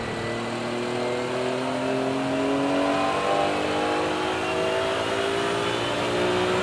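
BMW race cars tear past at speed around Donington Park, a loud, continuous engine roar with several overlapping howls climbing in pitch as the cars accelerate, with no talking.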